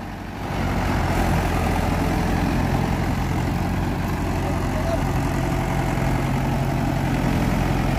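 Mahindra 585 XP Plus tractor engine idling close by, a loud steady diesel drone that rises in the first second and holds evenly throughout, with no clear talk over it.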